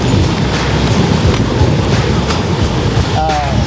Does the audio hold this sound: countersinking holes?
no